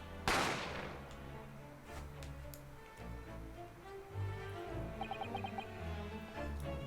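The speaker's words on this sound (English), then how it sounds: "naturally, the gunshot caused a commotion" A single sharp gunshot effect from The Great Ace Attorney video game cracks out at the start. It fades into a low musical bed with faint ticking clicks.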